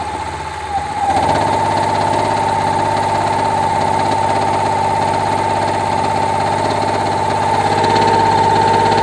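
A DC generator engine runs under load at about 1.6 kilowatts, making a loud, steady drone with a strong whining tone that holds constant after it rises just past the start.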